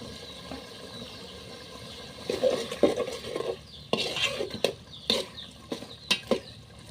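Village-style spicy beef khichuri with green chilli and onion is stir-fried in a pot, with a low sizzle beneath repeated sharp scrapes and clinks of a spatula against metal that grow louder and more rhythmic.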